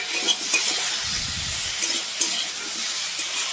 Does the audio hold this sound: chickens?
no